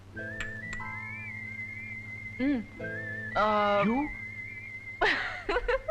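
A person whistles in a Tamil film scene, a long sustained tone with wavering trills and rising swoops, loud and close, joined by brief voices and a short laugh.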